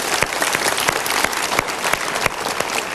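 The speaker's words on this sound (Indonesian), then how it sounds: "Tepuk tangan untuk pilihan Anda." Steady applause from a studio audience at a televised motivational talk show, loud and dense with sharp individual claps throughout.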